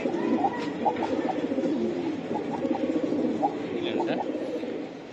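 Giribaz pigeons coo softly and repeatedly against a murmuring background, with a few faint chirps mixed in.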